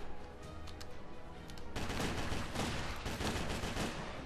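Gunfire sounds in the action video game Headhunter: a quieter stretch of rapid shots, then a louder, denser burst of repeated shots that continues steadily to the end.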